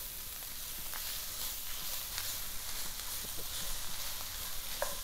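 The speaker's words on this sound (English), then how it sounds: "I'm gonna go ahead and add my cabbage. And kind of stir that in there." Sausage and cabbage sizzle steadily in a pot with brown bits on the bottom, while a utensil stirs and scrapes with soft intermittent clicks over the constant close frying hiss.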